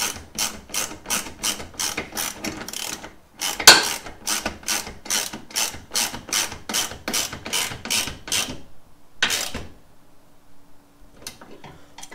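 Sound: ratchet tightening 13 mm bolts on a 4Runner winch bumper

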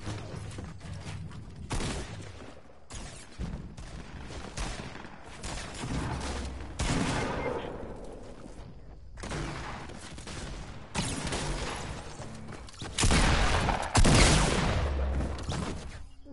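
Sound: gunfire from a video game

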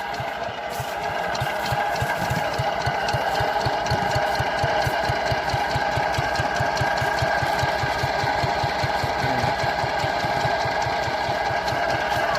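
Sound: field plough machine engine running

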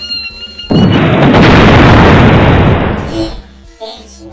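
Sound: bomb explosion

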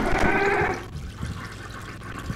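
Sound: toilet flushing in a video game

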